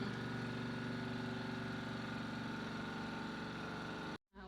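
A Sharp ES-T95CR twin-tub washing machine runs with a steady, even motor hum and rattle, then cuts out abruptly near the end into a brief silence.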